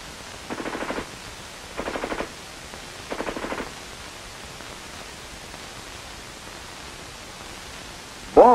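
Automatic fire from an infantry weapon, three short bursts of rapid shots spaced about a second apart, fairly faint over a hissing background, then quiet, with a sharp louder sound at the very end.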